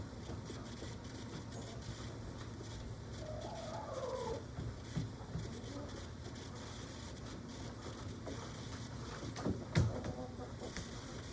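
Chickens cluck softly at a distance over a steady outdoor background hum, with a few scattered knocks and one sharper clatter near the end.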